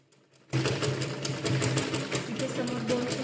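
A sewing machine starts abruptly after a short quiet moment, then runs in a fast, steady chatter while stitching piping onto a katori blouse, close by.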